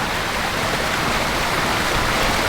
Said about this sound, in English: Probably a lot of waterfall noise in the background